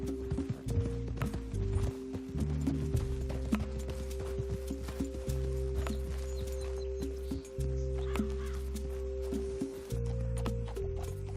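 Horse hooves clip-clopping steadily in Red Dead Redemption 2, a close, even walking rhythm over a low droning game score, with an occasional whinny.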